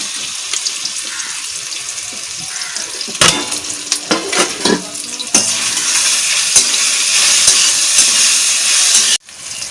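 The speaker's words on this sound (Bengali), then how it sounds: "তেল গরম হয়ে গেছে, এবার আমি এগুলো দিয়ে দিলাম।" Taro stolons hitting hot oil in a pan, a loud steady sizzle that swells after a burst of clattering and stays bright and continuous to the end, with no talk.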